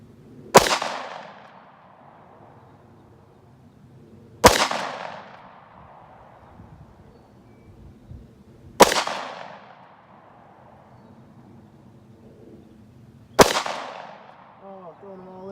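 Four sharp 9mm Glock 43X pistol shots ring out at even intervals of about four seconds, each a loud close crack with a short decaying tail, fired at steel plates 100 yards away.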